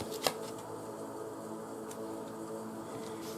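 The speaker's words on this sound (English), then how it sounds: "So a lot of cards, so I'm gonna reshuffle." Tarot cards being reshuffled by hand, a short crisp riffle burst near the start followed by a soft, steady papery rustle at close range.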